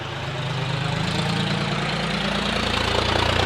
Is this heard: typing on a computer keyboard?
no